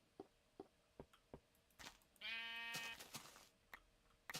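Sheep bleating in Minecraft Beta 1.7.3, a single clear harmonic bleat rising out of sparse game ticks and clicks, close and moderately loud.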